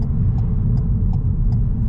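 Car cabin engine and road rumble as the car holds the right-hand lane approaching the Park & Ride roundabout in Winchester, a steady loud low drone with faint regular ticks of the indicator; no talking.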